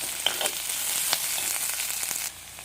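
Onion and green chili frying in hot oil with mustard seeds and fenugreek, a steady close sizzle with a few crackling pops, easing off near the end.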